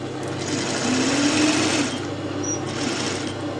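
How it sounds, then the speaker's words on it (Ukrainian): A sewing machine stitching a bedding set of duvet cover, sheet and pillowcases runs in a steady, close, continuous whir, alone without any talking. "Ну і друзі, шиємо."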